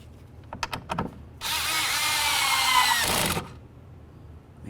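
Power tool driving in the window regulator mounting bolts on a 2007–14 Ford Edge: a few sharp clicks, then a loud sustained whirr of about two seconds close up, then quiet.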